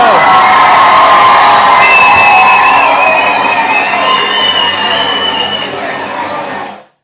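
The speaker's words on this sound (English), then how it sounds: "let's give Jesse a round of applause." An audience cheers a performer named Jesse with loud, close whoops and excited shouting, the crowd noise sustained at full volume before cutting off sharply at the end.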